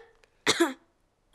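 Cartoon children, Danny Dog and Suzy Sheep from Peppa Pig, coughing: one short, close, rough cough burst with a vocal edge, a faint sound just before it and another brief sound at the very end, no speech.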